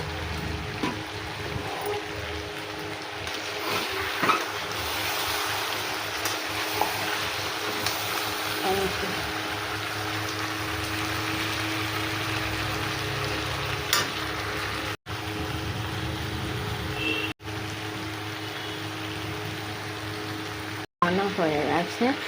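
A mutton curry with pumpkin and taro fries in oil with cumin powder and garam masala, a close, steady sizzle with stirring scrapes, broken by a few brief silent gaps.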